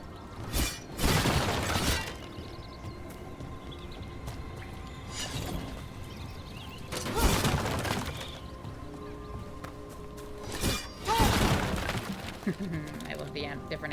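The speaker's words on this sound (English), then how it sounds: "No, no, I want to keep smashing boxes." Wooden crates being smashed in Dragon Age: The Veilguard, several separate crunching, splintering breaks in rapid bursts over a steady game soundscape, with a voice talking between impacts.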